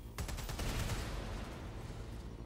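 Rapid bursts of video game gunfire rattle off in a loud, dense volley that opens sharply and then carries on as sustained shooting.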